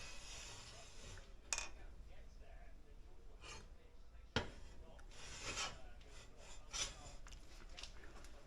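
Fingertips rub across a rebuilt IAME KA100 kart engine crank after pressing, giving quiet, close rasping strokes with a few sharper scrapes and faint breaths in between.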